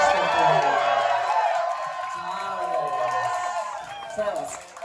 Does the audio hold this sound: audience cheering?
yes